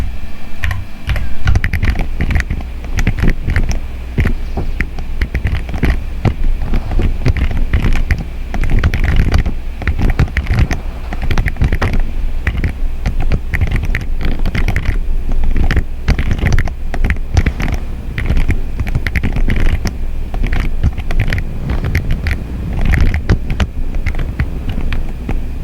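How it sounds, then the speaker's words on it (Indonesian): Steady, close clatter of a computer keyboard as an SQL query is typed, with keys tapping in quick, continuous runs throughout. "Kita langsung saja ketikkan ya."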